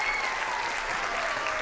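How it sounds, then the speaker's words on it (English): A crowd at an awards ceremony claps and cheers loudly and continuously for the authors, a dense wash of applause with no break. "let's give our authors, please, a huge cheer"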